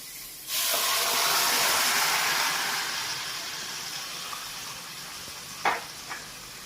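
Fried beef and coconut pieces poured into a hot pan set off a sudden loud hiss that slowly fades over several seconds, followed by a couple of light clinks.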